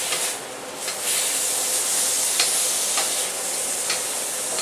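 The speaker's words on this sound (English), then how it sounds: "Have this set to about a medium-high heat. And just keep this stuff stirring around." Ginger shrimp stir fry cooking over medium-high heat with a kitchen fan running, a continuous sizzle and hiss with scraping stirs at intervals, no voices.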